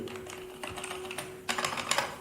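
Keys on an old computer keyboard clack in quick, uneven bursts of typing, faint and close in a quiet room with a steady background hum, with no one speaking.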